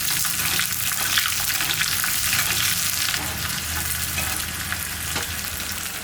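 A handful of finely chopped small onions fry in hot oil for a South Indian sambar tempering, producing a loud, dense, continuous sizzle close up with no speech over it.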